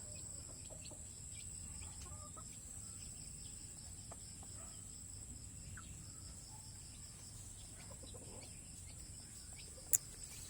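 Chickens in a coop with hatched chicks, faint scattered clucks over steady insect buzzing and a constant high hum, one sharp click near the end.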